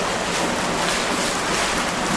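River water rushes through an abandoned sewer collector tunnel, a loud continuous broadband roar that stays steady and close with no speech.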